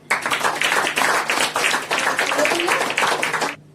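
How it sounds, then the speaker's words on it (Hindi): A church congregation claps loudly during worship, a dense run of rhythmic hand claps for about three and a half seconds that stops abruptly. "परमेश्वर की उपस्थिति में जोर से ताली बजाएंगे।"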